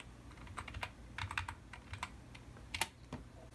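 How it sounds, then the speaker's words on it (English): Someone types a password on a Mac computer keyboard, soft close clicks of individual keys tapped in an uneven rhythm, about a dozen quiet keystrokes with short pauses and no talking. "Type in your password."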